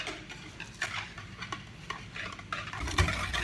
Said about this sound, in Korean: 4스푼 단백질 파우더를 넣고 저으라고 하네요